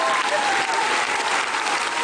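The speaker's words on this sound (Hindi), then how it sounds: "एक बार जोरदार ताली होना चाहिए" Studio audience on a Hindi quiz show breaking into loud, sustained applause, a dense continuous patter of many hands clapping close by for the whole stretch.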